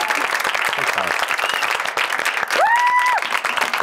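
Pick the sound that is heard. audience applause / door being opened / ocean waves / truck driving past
audience applause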